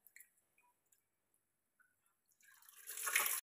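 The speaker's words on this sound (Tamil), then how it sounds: "இப்போ நல்லா கழுவி, ரெண்டு மூணு தடவை நல்லா கழுவி எடுத்துருங்க." Varagu millet rice and lentils are washed in water: a few scattered drips and small splashes, then a swelling slosh of water moving through the grains near the end.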